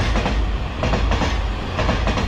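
A train runs along a railway line beside the Qingshui Wufu irrigation canal cycle path in Taiwan, a loud, close, continuous rumble with rhythmic wheel clatter swelling in pulses throughout, with no voices.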